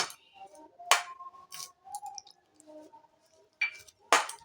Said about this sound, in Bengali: এতে আমি জল দিয়ে ডোটা একটা মাখিয়ে নেব